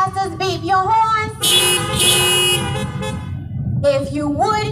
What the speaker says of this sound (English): If you appreciate them not quitting, even when the devil told them they couldn't.